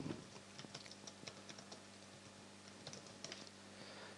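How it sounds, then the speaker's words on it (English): Fingers type on a computer keyboard in a quiet room, soft irregular key clicks coming in short bursts with brief gaps between them. "Let's type it here."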